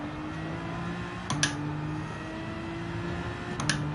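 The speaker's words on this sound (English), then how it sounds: "I just could not resist the sound of the V12." A V12 racing car in Gran Turismo 7 drones at a steady pitch, holding a sustained engine note with two brief shifts or blips, loud and continuous with no talking.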